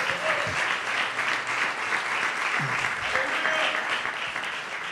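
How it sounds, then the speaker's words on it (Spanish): Steady, dense applause from a church congregation fills the whole stretch, loud and sustained without a break. "Ahora sí, dele un aplauso al Señor"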